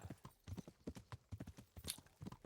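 Horse hooves clip-clop in a quick, uneven rhythm, soft and close, in the video game Kingdom Come: Deliverance, with a faint higher squeal near the end.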